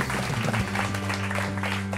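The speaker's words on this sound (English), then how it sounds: "Let's give them a round of applause, please, ladies and gentlemen." A studio audience applauds as guests are brought on, a steady wash of clapping held at an even level over a sustained tonal bed that sounds like music, running the full length.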